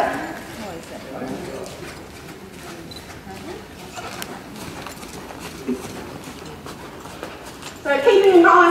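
Morgan horse hooves clip-clop across an arena in a steady gait, heard behind a person talking almost continuously, with a louder burst near the end.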